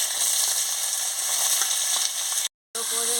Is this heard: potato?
yes